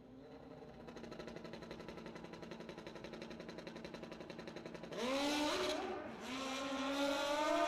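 A drag racing car in a Real Street qualifying run at the ManCup World Finals burbles with a rapid, staccato idle, then launches into a loud, rising engine roar with a brief dip as the gears change. No one talks.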